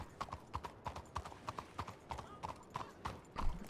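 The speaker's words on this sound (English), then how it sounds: "You got a new horse." Horse hooves in a video game clip-clop in a steady, even walking rhythm, close and moderately loud with a faint background murmur.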